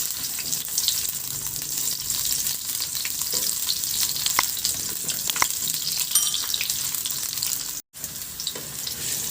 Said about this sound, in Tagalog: Maglagay ako ng konting mantika at igisa ko na yung bawang.